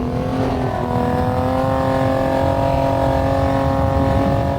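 A car engine in Half-Life 2 drones steadily on a beach, its loud, even hum holding a constant pitch throughout with no talking over it.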